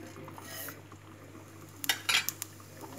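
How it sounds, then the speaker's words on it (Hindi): Black mustard seeds hitting hot oil with asafoetida in a pan for a tadka, heard as a quick burst of sharp crackles and pops with a faint scrape near the end. "अब यहाँ पे मैं राई डाल रही हूँ"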